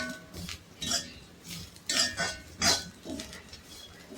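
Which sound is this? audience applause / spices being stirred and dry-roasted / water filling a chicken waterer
spices being stirred and dry-roasted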